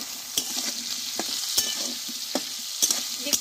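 Potatoes and peas frying in a pan are stirred with a utensil, giving a steady hiss of sizzling broken by several sharp scraping clatters, close and fairly quiet with no voices.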